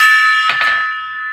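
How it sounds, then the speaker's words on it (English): A metallic ringing tone with a struck accent midway, like a gong being hit, sustaining loud and bright and slowly decaying. "Smash a gong for good luck."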